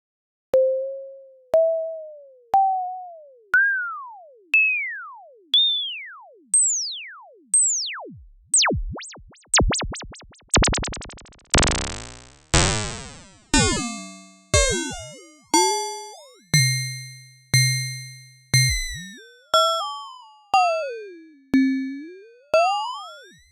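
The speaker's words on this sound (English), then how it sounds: "I'm going to turn on the pitch modulation here to the sine wave" A synthesized sine tone from a drum synthesizer repeats in evenly spaced bursts, each pitch-bending, growing into warbling, buzzing and chirping metallic tones as the pitch modulation deepens, like basic FM synthesis.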